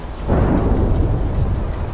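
A powerful thunderstorm rumbles with a loud, sustained roll of thunder over a steady wash of heavy rain, with no voices.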